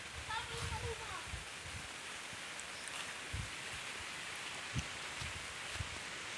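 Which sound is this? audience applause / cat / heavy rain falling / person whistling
heavy rain falling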